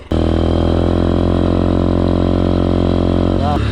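A motorcycle engine idles loudly and steadily up close, a constant rumbling drone with a brief hiccup near the end.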